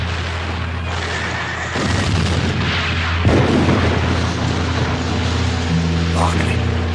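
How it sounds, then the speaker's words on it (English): Gunfire laid down as covering fire, heard as a continuous dense roar with bursts and a sharp boom near the middle, sustained and loud behind a busy background, with voices briefly audible. "while my comrades gave me covering fire"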